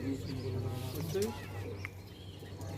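Punjabi Malwai pigeons coo in a low, steady murmur close by, mixed with faint background voices and other soft bird noises.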